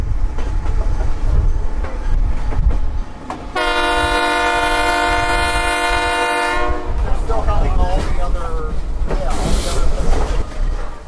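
The SAM Shortline tourist train on the tracks at Cordele, Georgia, rumbling and clattering nearby while its horn sounds one long, loud blast, with a voice talking over the rail noise.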